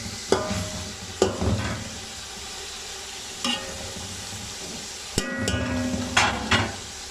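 Chicken fries in a pot with yogurt and onions, giving a steady low sizzle broken by a few sharp clanks of a spoon against the pot and short stirring scrapes.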